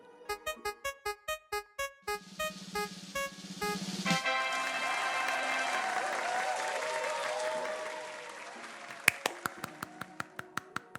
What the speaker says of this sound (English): Let me do a little round of applause, a little cheer.